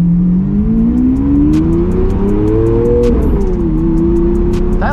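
A Lamborghini Aventador SV's engine revs loudly and steadily, the pitch climbing for a few seconds before dropping as a gear engages and then holding again, close and continuous throughout.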